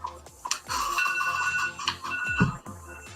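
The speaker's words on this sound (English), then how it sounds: "Okay, that's my timer." An appliance timer playing its end-of-cycle tune, a short melodic electronic chime of bright repeated notes, fairly quiet and close, with faint room noise around it.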